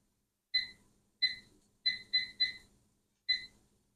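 Kitchen timer being set while blueberry muffins bake, six short, crisp electronic beeps at uneven intervals, clear and close in an otherwise quiet room.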